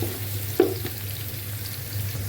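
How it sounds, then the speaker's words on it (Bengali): Onion frying with cinnamon and cardamom in a pan gives a soft, steady sizzle with a brief clink of stirring, quiet and close, with no talk. "এখানে আমি পেঁয়াজ দিয়েছি, অল্প দারচিনি নিয়েছি, এলাচ নিয়েছি, নিয়ে আমি এটাকে সুন্দর করে ভেজে নেব।"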